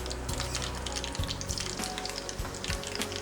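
Mustard seeds and fenugreek sizzle in hot coconut oil, a steady close crackling fry dotted with small pops as the seeds burst, with no talking.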